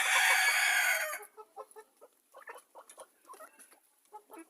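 A brief loud burst of chicken squawking gives way to soft, scattered clucks and pecking noises nearby.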